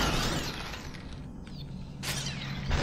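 Thrown glass smashing in the SuperHot game, a brief bright shatter burst near the end over a steady low game hum, moderately quiet, with no voices.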